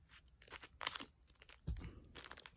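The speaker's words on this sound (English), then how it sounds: "I'm gonna use my scissors right quick." Scissors cutting open the foil wrapper of a trading card pack, a few faint, close crinkling and snipping crunches spaced across a couple of seconds.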